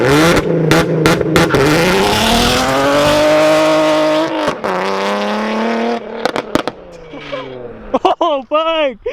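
A loud VQ car engine revs hard and holds a raspy note through a Tomei titanium exhaust, with a person's voice cutting in near the end.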